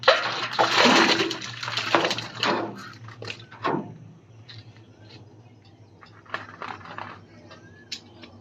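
Mangoes are washed in water for pickle-making, with a close burst of splashing and sloshing at the start that fades into quieter drips, knocks and handling sounds, over a low steady background hum.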